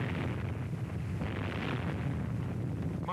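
A nuclear test explosion at Bikini Island, preserved on archival film, comes through as a continuous, muffled low roar and rumble with a windy, blustery texture that holds throughout.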